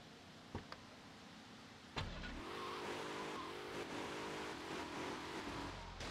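A car engine revs and hums steadily after a sharp knock, with faint clicks early on; an engine drone in GTA Vice City continuing for several seconds.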